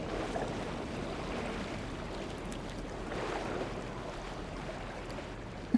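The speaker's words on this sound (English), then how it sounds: "The distant sound of waves lingers in my dreams." Distant ocean waves in the video game Love and Deepspace play as a steady, soft wash of surf and wind, continuous and even throughout with no voices.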